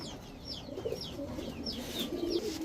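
Giribaz highflyer pigeons kept in a loft coo softly in repeated low, throaty calls, several birds overlapping at close range against a faint background hiss.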